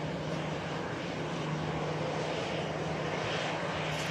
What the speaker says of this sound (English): EasyJet arrived in from Geneva.